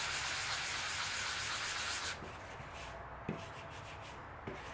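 Light hand sanding on a surfboard ding repair gives a soft, steady rubbing hiss that thins out midway into faint scuffs with a few small taps, close and quiet.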